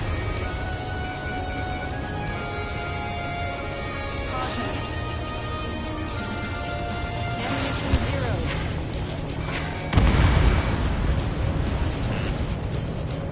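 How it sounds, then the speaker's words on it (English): Ace Combat 7 jet combat: a dense, steady roar of game sound carries a sharp thump near the eight-second mark, then a heavier, louder blast at ten seconds, as a missile launches and explodes, with rumble continuing afterward. "This is Spare 11, launching missile."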